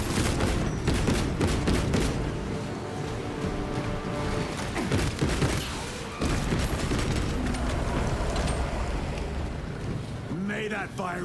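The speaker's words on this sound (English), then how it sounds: "They're shooting me." Rapid volleys of enemy gunfire aimed at the player in a video game, dense crackling shots rolling on throughout amid wind and rumbling action, loud and close.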